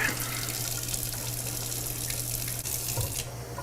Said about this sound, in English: hey, the sink is leaking.